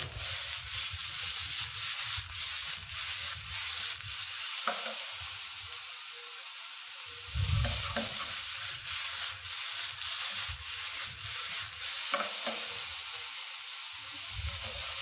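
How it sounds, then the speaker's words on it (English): Fiddleheads stir-fry in a pan with steady sizzling and frying, with intermittent scraping and stirring sounds throughout, close and continuous. "You want to give it a nice stir fry."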